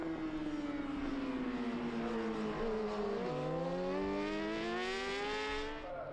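BMW and Kawasaki racing motorcycles at a French superbike round in Albi, high-revving engine whines rising and falling as bikes pass close, overlapping at full throttle.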